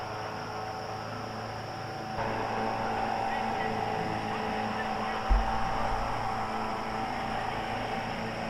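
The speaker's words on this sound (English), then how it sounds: "There's a boat on the river." A motorboat engine hums on a river during a public-land deer hunt in Michigan, a steady distant drone that swells slightly midway, with a brief thump near the end.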